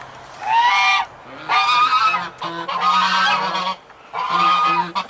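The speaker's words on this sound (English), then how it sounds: "And then the geese. Being geese. Traditionally just angry all the time." Farmyard geese honk loudly and close by in four drawn-out bursts separated by short pauses, with a lower goose or duck note underneath and no speech.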